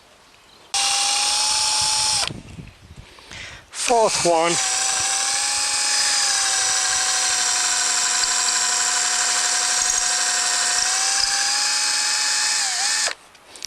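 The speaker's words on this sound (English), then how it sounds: "We continue to drill" A power drill with a 10 mm bit whines steadily at high pitch for several seconds while drilling holes to install a boat windlass, briefly stopping and restarting, with a short spoken remark in between.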